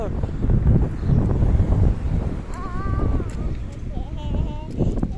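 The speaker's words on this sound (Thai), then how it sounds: "โอ้ลมเย็นสบายค่ะ" Outdoor wind rushes steadily against the microphone on a walk through a neighbourhood in Turkey, a broad low roar that persists throughout, with someone talking over it and faint birdsong near the end.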